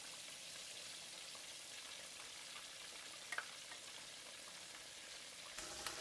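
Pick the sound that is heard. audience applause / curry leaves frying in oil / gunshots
curry leaves frying in oil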